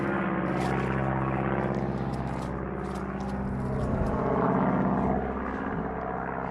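A propeller aircraft drones overhead above a wheat field at planting time, a loud, steady broadband engine rumble that swells slightly toward the end, with no talk.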